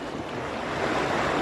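Sea waves washing onto a beach, a steady broadband rush of surf that swells slightly louder toward the end, with wind buffeting the microphone and no voices.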